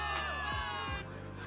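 A crowd of soldiers cheering for victory in the video game Zenless Zone Zero, a brief loud burst of shouts and whoops that drops off slightly toward the end.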